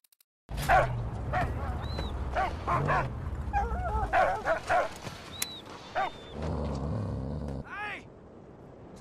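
A dog in the Mad Max video game barks, yips and whimpers in a string of close, excited calls with high whining tones, ending on a final bark after a short lull.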